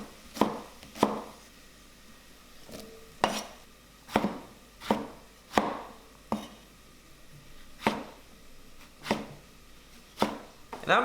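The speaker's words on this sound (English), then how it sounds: "I've got these large tomatoes here. I'm just going to roughly chop them up" Large tomatoes roughly chopped with a knife on a board, about a dozen sharp, evenly spaced knocks, close and clear with quiet gaps between them.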